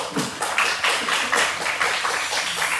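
A classroom of students bursts into busy, overlapping applause for a classmate, with the clapping staying fairly steady and close throughout.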